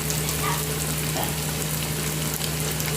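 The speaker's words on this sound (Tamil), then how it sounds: "இதை நாங்கள் வடை பொரிச்ச ஆயிலே தான் பொரிச்செடுக்க போகிறோம்" Keema samosas deep-fry in oil previously used for frying vada, giving a steady, close hiss and crackle of bubbling oil with no voices.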